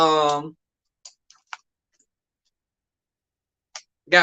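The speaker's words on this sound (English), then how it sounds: "if y'all hear me typing, that's because I got my" A few isolated soft clicks, like keys being tapped, spaced irregularly in near silence, with a voice speaking briefly at the start and end.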